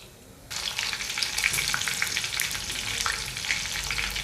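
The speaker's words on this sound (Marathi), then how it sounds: "अशी थोडीशी मिरची फ्राय करून घ्यायची" Green chilies drop into hot oil and start a loud, steady sizzle and crackle close by, a sudden onset after a quiet opening.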